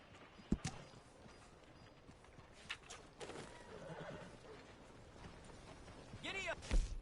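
A horse being ridden, with whinnying and scattered hoof thuds standing out over a busy, noisy background, rising to a louder neigh near the end.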